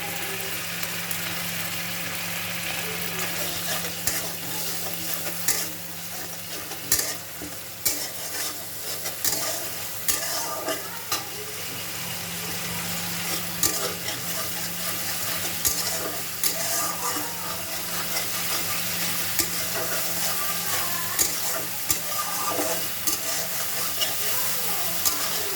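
Spices for mustard hilsa curry fry in oil, giving a steady close sizzle and bubbling hiss throughout, broken by repeated scraping stirs of a spatula in the pan.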